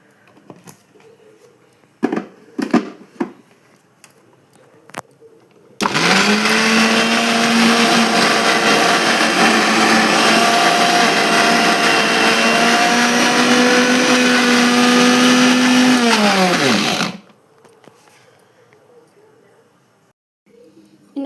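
A kitchen mixer grinder blitzes garlic, chili, salt and coconut into powder in one loud, continuous run of about eleven seconds, starting abruptly and winding down at the end, with quieter clatter and talk around it.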